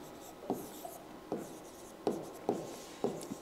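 Chalk tapping and scratching across a classroom board in sharp strokes, about six distinct hits spread over a few seconds, fairly quiet, with no talking over it.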